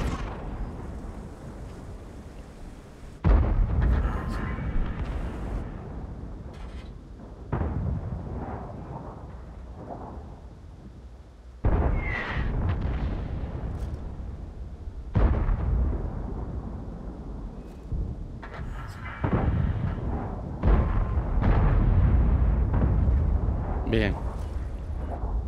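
Artillery fire in World of Tanks lands as a series of heavy, rumbling booms every few seconds, mixed with other battle noise and a voice talking over it.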